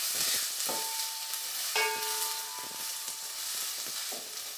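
Two medium chopped onions sautéing in hot oil in a pan, a continuous loud sizzle broken by scraping stirs and short metallic rings from the pan, with no voices.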